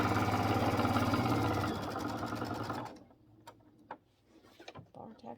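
A sewing machine runs fast and steady, stitching a bar tack on an egg-gathering apron for about three seconds, then stops, leaving scattered small clicks and handling noises.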